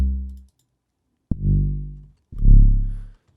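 Three deep 808 bass notes in a trap-style remake, each a sustained low boom that decays; the notes show pitch automation, with the first dragging its pitch downward.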